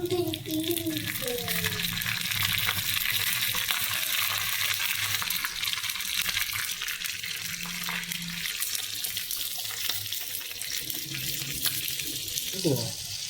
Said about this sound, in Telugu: సో తాలింపు గింజలు వేస్తున్నాం.